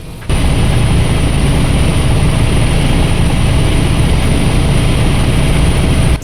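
A helicopter flies from Pasighat to Anini over the Himalayas in Arunachal Pradesh, with a loud, steady roar of engine and rotor that fills the whole stretch without letting up. No one talks.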